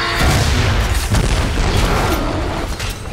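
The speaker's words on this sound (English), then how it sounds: "Come get your explosions." Loud, dense explosions boom in rapid succession in the Shadow Warrior video game, overlapping into a continuous heavy rumble with sharp bursts throughout.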